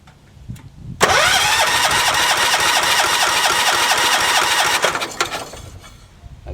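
A John Deere 300 lawn tractor, low on fuel, is cranked over. Its engine catches with a sudden loud start, runs roughly for about four seconds, then sputters and dies away.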